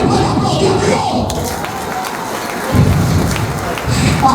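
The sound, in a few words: church crowd cheering and applauding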